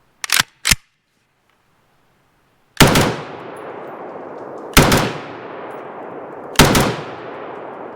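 A CZ Bren 2A2 carbine fires a quick double tap of two sharp shots, then after a pause three more loud single shots, each ringing out with a long echoing tail outdoors.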